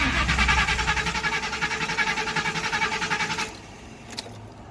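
A car engine cranks repeatedly and fails to start, a loud, fast, even whirring rhythm that runs for several seconds before cutting off, followed by a faint click.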